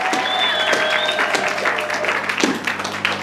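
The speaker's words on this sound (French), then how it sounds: "acclamons pour la gloire de l'Éternel notre Dieu" A church congregation applauds together in sustained, dense clapping that swells and thins, with voices calling out and a tonal whistle or shout briefly rising above the crowd.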